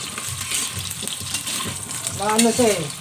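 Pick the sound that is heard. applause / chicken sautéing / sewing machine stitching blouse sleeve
chicken sautéing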